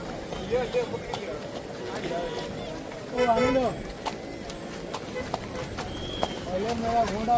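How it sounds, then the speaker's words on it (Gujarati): Horse hooves clip-clop at a hill station while a rider sits on the horse, an uneven patter close by with people talking over it throughout. "ઘોડા ઉપર બેસી ગયા છે."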